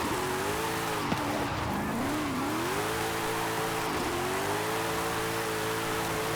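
Car with snow tires in the Forza Horizon 5 racing game surges forward, its engine holding a loud, steady high rev with brief dips and climbs as it gains speed, with no voices over it.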